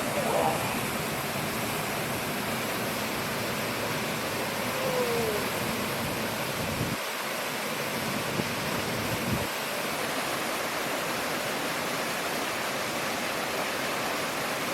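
Teapot Creek, a mountain creek among big trees and swimming holes in a trail-less wilderness valley, rushes steadily as a broad constant roar, with two brief dips partway through.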